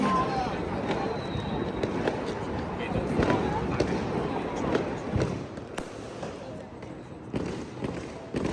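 Firecrackers set off on a street for Chinese New Year, sharp bursts popping irregularly over a busy crowd hubbub with voices talking throughout.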